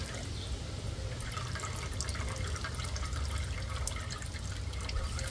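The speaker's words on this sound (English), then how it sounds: "We'll drain this carefully and see if we find anything scary. But we'll go ahead and let that drain." Old engine oil draining from a 1949 John Deere tractor, a steady trickling, dripping liquid sound, continuous and moderately faint throughout with no talk.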